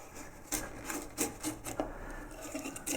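Paper glue joint splitting as a carved acanthus-leaf wood carving is pried free from its backing, giving a series of close, dry creaks and sharp crackles at irregular intervals with no talk.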